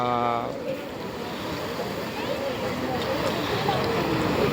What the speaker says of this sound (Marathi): समुद्र लाटा